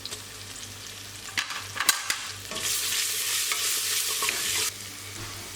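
Onion, crushed garlic and crushed ginger sauté in a pan for beef mandi: a few scraping stirs, then a steady close sizzle that cuts off abruptly, with no speech.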